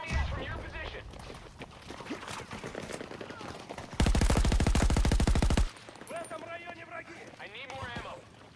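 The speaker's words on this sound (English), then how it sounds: "It's an assault rifle." Assault rifle in Battlefield 2042 firing a loud sustained automatic burst of about a second and a half, rapid even shots up close, surrounded by someone talking and game sounds.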